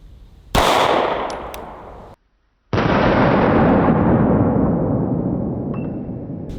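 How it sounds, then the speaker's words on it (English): Two loud 9mm shots from a Glock 19 pistol fired outdoors at a metal Yeti cooler. Each is a sharp, close crack followed by a long rolling echo, with a brief silent gap between them. "Just gonna shoot the metal one this time."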